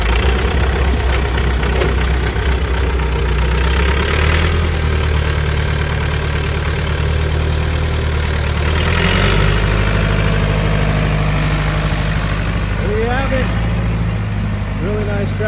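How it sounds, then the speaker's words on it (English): Massey Ferguson 165 two-wheel-drive tractor engine idling at close range, a steady loud low rumble that shifts slightly in pitch midway, with people talking over it. "Really nice tractor."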